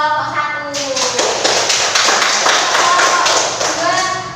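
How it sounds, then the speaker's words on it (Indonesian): A small group in a classroom coaching session claps together for the winning group, making a close, loud burst of rhythmic clapping with voices talking over it. "kita apresiasi tepuk tangan untuk kelompok 1"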